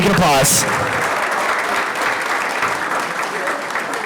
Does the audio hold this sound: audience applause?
yes